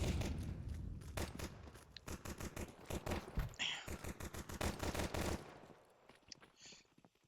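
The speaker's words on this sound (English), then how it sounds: "there's already shooting going on here" Rapid bursts of gunfire from the video game Counter-Strike 2 on the Ancient map, dense repeated shots in quick succession that thin out and fade near the end.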